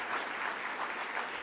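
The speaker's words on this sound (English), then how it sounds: "Thank you for that applause." A brief burst of steady audience clapping in a university lecture hall after an introduction, a uniform, moderately distant wash of many hands with no voices over it.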